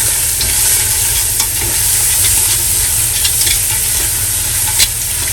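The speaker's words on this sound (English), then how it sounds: "I'm gonna throw in it my onions and garlic. Give it a good stir." Onions and garlic stirred in a hot frying pot for Welsh cawl, giving a steady close sizzle and hiss with soft scraping stirs throughout and no talking.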